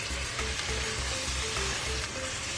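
Chicken keema, homemade from ground chicken, frying in a pan: a steady low sizzle with soft crackle running continuously throughout.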